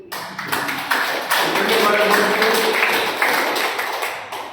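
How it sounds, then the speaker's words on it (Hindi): A crowd at a branch meeting in India claps steadily for several seconds, many hands tapping together in a dense patter that swells and then fades slightly. "इस पे जहाँ एक ताली जोरदार होनी चाहिए"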